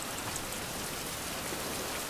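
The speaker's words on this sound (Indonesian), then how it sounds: "pas hujan mantap" Steady rain pours down in a survival game, a dense, even hiss of falling water that holds constant throughout with no talking over it.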